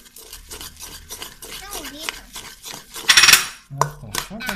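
A cauliflower and cheese croquette mixture with egg is stirred in a bowl. Utensils clink and scrape against the dish in irregular bursts, with louder clatter near the end and voices talking over it.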